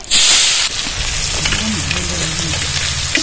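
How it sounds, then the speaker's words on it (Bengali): Cumin, dried chilli and chopped onion drop into hot oil with a loud initial hiss, then settle into a steady close sizzle and crackle of frying, with faint stirring. "ফোড়ন দিয়ে দেবো জিরে আর শুকনো লঙ্কা, পেঁয়াজ কুচি দিয়ে দেবো"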